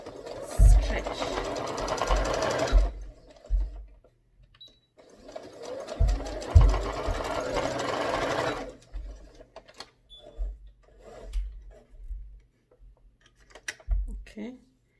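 Sewing machine stitching elastic while it is stretched, running in two loud sustained passes with a pause between them, followed by clicks and handling sounds. Someone talks over the stitching.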